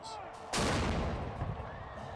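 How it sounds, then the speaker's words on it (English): A single sharp, booming cannon blast at Husky Stadium erupts and rolls into a long, noisy rumble that fades slowly. "Now that the cannon is back, you can expect to get some jumps in the crowd when it goes off"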